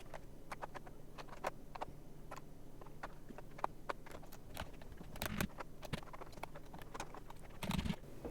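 A mechanical keyboard with green switches and specialty keycaps clicks in scattered, irregular keystrokes, crisp and close but quiet against a low background hum.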